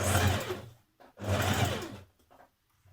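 A domestic sewing machine stitches a dress neckband in two steady, close bursts separated by brief pauses, then a few light handling clicks at the end.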